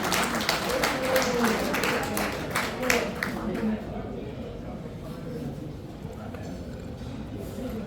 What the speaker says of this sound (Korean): 우리 이희청 교수님을 위해서 큰 박수 한번